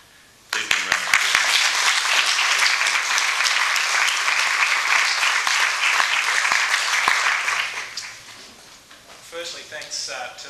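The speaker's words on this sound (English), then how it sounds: "Please give him a round of applause." At a human rights law seminar, an audience breaks into a round of applause for a visiting minister, sharp claps starting abruptly and sustained for several seconds before tapering off into a few scattered claps.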